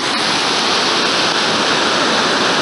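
Water pouring and rushing at the entrance to Wind Cave in Darby Canyon, Wyoming, a loud, steady, close roar of flowing water with no breaks.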